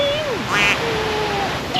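A duck quacking outdoors in a New York cemetery, short nasal calls over a steady wash of background noise, with people talking nearby.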